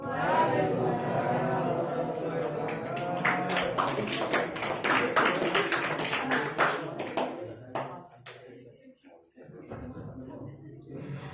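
Audience claps for a contestant at an Isra Mi'raj competition, a burst of many hands clapping together under a voice, fading away toward the end.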